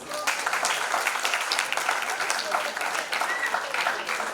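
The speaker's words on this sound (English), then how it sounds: "Please welcome Aditya Bhaiya with a huge round of applause" Audience applause after a skit, a dense steady patter of many hands clapping throughout, with voices faintly mixed in.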